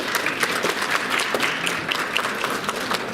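Audience at a law seminar on negligent offenses breaks into a brief, steady round of clapping from many hands in an indoor hall, with no talk over it.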